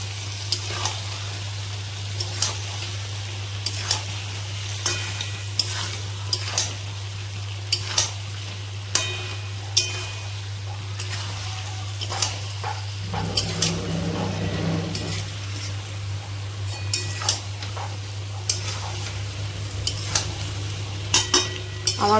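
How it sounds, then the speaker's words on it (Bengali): Boiled potatoes are sautéed in a pan for aloo dum, with a spoon striking and scraping the pan in sharp, regularly spaced clinks over a steady low hum and a faint background sizzle. "এর মধ্যে আমি সেদ্ধ করে রাখা আলুগুলো দিয়ে আমি ভালো করে কষিয়ে নেব।"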